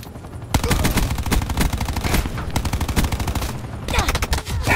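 Rapid bursts of automatic gunfire from the shooter game Call of Duty: Black Ops 4 (beta), dense and loud, repeating in quick volleys with brief pauses throughout.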